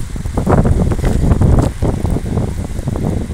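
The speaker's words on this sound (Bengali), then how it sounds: "হাওয়ার দাপট দেখুন।" Strong wind gusts buffet the microphone outdoors on a cloudy, drizzly morning, a loud, continuous rumbling roar with pulsing surges and no voices.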